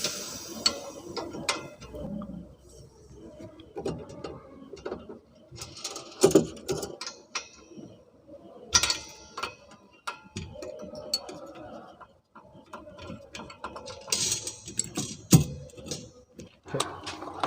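A wrench ratchets and clicks while loosening mounting bolts to remove a CNG cylinder from a car, irregular metallic clicking and clanks close by across a long stretch with pauses between turns.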